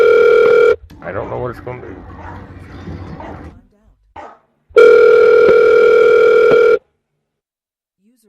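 A telephone call rings through as two steady electronic tone bursts, the first brief and the second about two seconds long, with people talking in the gap between them.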